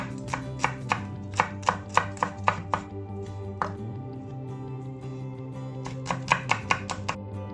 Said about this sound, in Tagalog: I'm gonna slice the chili, just chop